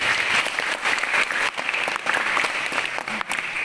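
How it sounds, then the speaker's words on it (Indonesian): A school audience applauds their teachers during a religious talk in Belitung, a full wash of crowd clapping that swells and dips over several seconds. "Tepuk tangan buat guru kita."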